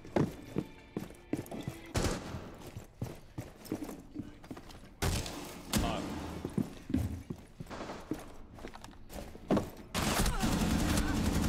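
Gunfire in the video game Rainbow Six Siege: repeated bursts and single shots, some close and loud, others more distant, with a sustained stretch of rapid fire at the end and players talking in between.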